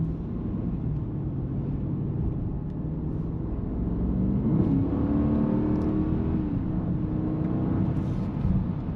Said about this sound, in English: I'm gonna go right through here and just give the car some good amount of power